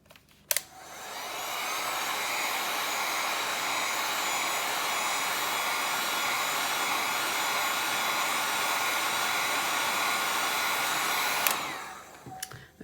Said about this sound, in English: I'm not going to talk while the heat gun is on